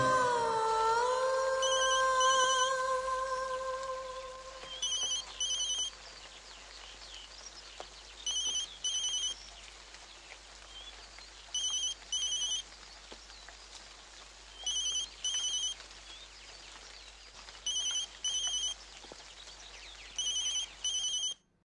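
A telephone rings repeatedly and goes unanswered, with paired electronic ring bursts spaced evenly every few seconds, fairly faint, after a brief sustained musical tone fades at the start.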